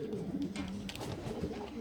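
Pigeon cooing on a balcony, a steady low rolling coo repeating throughout, close and fairly loud with no talk over it.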